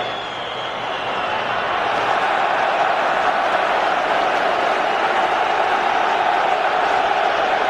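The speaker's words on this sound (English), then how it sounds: "it must sound like a home as though everybody's cheering throughout the game, but we must stress it's the Croatian supporters" Croatia supporters, about 7,000 of them, roar and cheer throughout a Euro 2008 qualifier against England at a packed stadium, a dense, steady wall of crowd noise that swells slightly after the first second and holds loud to the end.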